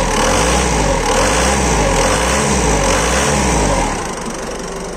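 A homemade engine running loud and close, with a rising, cyclic whine as throttle is applied, then settling to a quieter, steady hum near the end.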